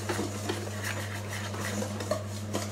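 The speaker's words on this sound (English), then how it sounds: "I am going to mix this" Cocoa powder and sugar being stirred together in a bowl for a chocolate cake, giving soft scraping and light clinks of a utensil against the bowl over a steady low background hum.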